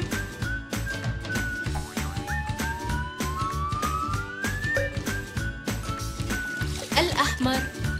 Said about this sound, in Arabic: سيارة الشرطة، سيارة الشرطة.